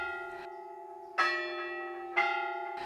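A single church bell at the Church of the Holy Ascension, built in 1834 in the Bulgarian village of Pavelsko, strikes three times at about one-second intervals, each clear ringing tone slowly fading.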